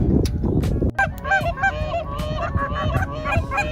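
Snow geese honk over a hunting spread of honker decoys during a blizzard in North Dakota, a dense, continuous chorus of overlapping calls with wind noise underneath.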